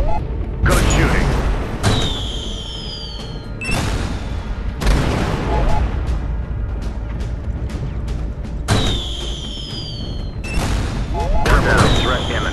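Gunfire in the video game Shadow Strike, heard as repeated loud booming shots and bursts with whooshing and mechanical sounds, mixed with spoken radio-style callouts.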